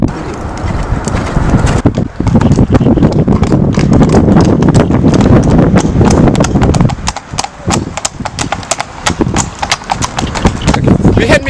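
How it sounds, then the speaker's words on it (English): Horses' hooves clip-clop steadily during children's riding lessons at a Dublin riding school, a fast continuous run of sharp close hoofbeats, with a person talking over them for much of the time. "Behind me you can see kids riding the horses."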